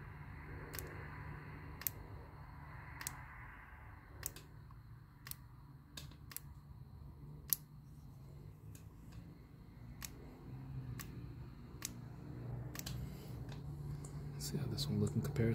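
A transmission shift solenoid on a 2003 Chevy Monte Carlo with a shifting fault clicks sharply at irregular intervals, a dozen or so crisp ticks over low background hum with faint nearby talk.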